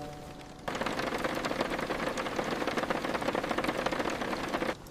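Rain falls steadily outside a cozy home, a dense, even hiss that starts abruptly and runs without pause before cutting off near the end.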